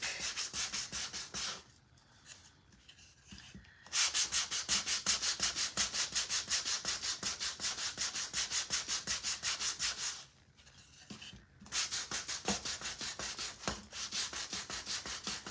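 Sandpaper rubbing on wood while crafting a rustic scarecrow with a sunflower from a DIY kit: rapid back-and-forth scratchy strokes, close and steady, with two short pauses between bursts.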